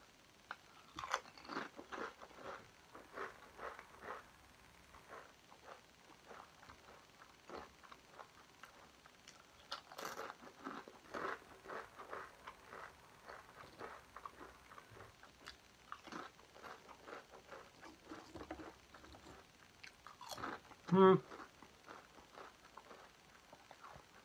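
Walkers Pizza Express American Hot crisps being crunched and chewed close up, a steady run of crisp bites and munching with a louder crunch near the end, no talking.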